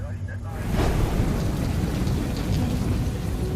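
Steady heavy rain pours down on Guam during the August rainy season, with low rumbling thunder rolling underneath; the downpour stays loud and constant throughout.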